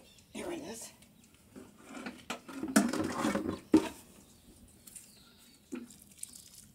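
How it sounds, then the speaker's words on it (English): Water pours from a watering can onto onions growing in indoor containers, coming in a few soft splashing bursts over a quiet room background. "I'll water them both in real good"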